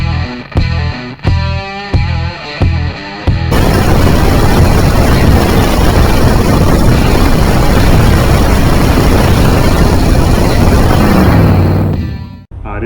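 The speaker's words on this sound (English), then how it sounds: "this is going to be a four-wheel drive, V8 powered Ferrari tractor" A V8 engine on a four-wheel-drive Ferrari tractor from Italy sputters through several short bursts, then catches and roars at a loud, rough, steady run for about nine seconds before cutting off.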